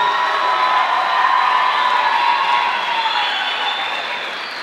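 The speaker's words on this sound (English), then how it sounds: "So please give these wonderful young people another round of applause." Loud, sustained crowd applause with cheering and whoops after a high school steel orchestra concert, a dense continuous roar of clapping and voices that slowly fades toward the end.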